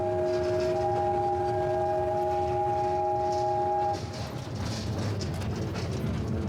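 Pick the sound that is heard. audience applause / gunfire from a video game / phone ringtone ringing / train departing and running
train departing and running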